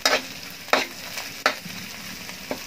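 Small anchovies sizzle in a hot pan while being stirred, with four scraping stir strokes spaced about a second apart over the steady crackle.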